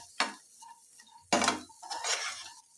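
Chicken manchurian fries with sauce in a pan: short bursts of scraping and stirring from a utensil, with a light sizzle underneath and quiet gaps between the strokes.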